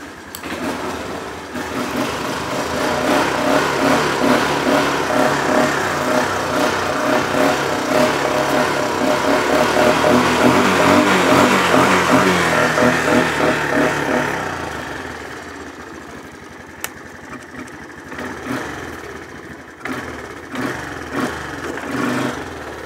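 A Honda 250es ATV engine idles and runs with a loud, close, rapid chugging putter that swells and then drops to a quieter idle toward the end.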